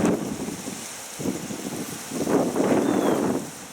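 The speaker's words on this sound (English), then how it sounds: "here comes my wind gust" A gust of outdoor wind buffets the microphone during a morning reading session, a low rushing roar that rises, dips briefly, then swells louder again near the end, with no voices.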